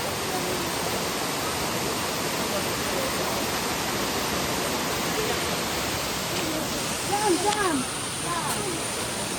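Chamadka waterfall pours as a steady broadband rush, with brief voices and chirping sounds breaking through near the end.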